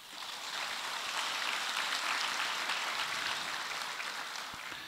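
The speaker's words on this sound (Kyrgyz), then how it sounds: "Ушуңузга кол чаап кое бергиле." Audience applause at a religious question-and-answer gathering in Osh, a sustained wash of many hands clapping together at moderate distance, swelling briefly and then fading slightly.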